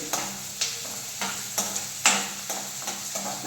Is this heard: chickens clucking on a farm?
no